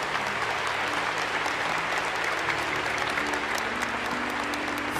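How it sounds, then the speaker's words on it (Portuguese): Church congregation applauding steadily throughout, a dense, even clapping from a sizeable crowd after a Gospel reading, with no voices standing out. "Vamos aplaudir a palavra."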